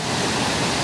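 Floodwater from Sandy Creek roaring over a submerged low water crossing after 13 inches of rain in two hours, a loud, dense, unbroken rushing wash.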